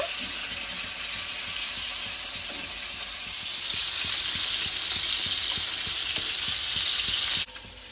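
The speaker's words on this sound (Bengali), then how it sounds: "মাছটা ভাজা হতে থাক" Rohu fish fries in oil with a steady, loud sizzle that swells slightly partway through, close by, with faint clinks and no talking.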